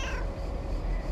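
A cat meows in a PC adventure game set around a lake, a single drawn-out call over a steady hum of game ambience.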